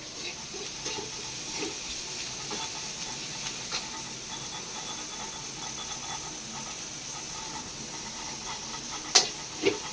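Onions sautéing in a pan for chutney, a steady soft sizzle and hiss running throughout with a few faint stirring clicks and a sharper clatter near the end.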